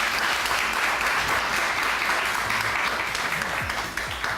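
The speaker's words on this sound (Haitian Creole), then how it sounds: "applaudissez-moi encore." Sustained studio audience applause on a talk show set, dense and loud clapping that continues throughout before easing slightly at the end, with a voice briefly audible underneath.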